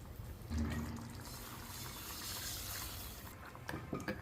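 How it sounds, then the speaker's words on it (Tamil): Hot water pours from a kadai into a pot of mutton and radish gravy, a soft low splashing fill that swells briefly and then trickles on faintly, with small clatters near the end. "இப்போ இந்த கடாயில் தண்ணி சூடாக்கி நான் ஊற்றிடுவேன்"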